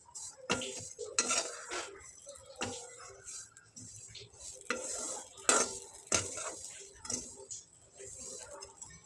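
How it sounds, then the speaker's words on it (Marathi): Vermicelli roasting in ghee in a pan over a low flame, with repeated scraping and clinking strokes of a spoon against the metal pan over a soft background sizzle, close and moderately loud, with no talk. "पाच ते 6 मिनटं बारीक गॅसवर या शेवया मी भाजून घेते।"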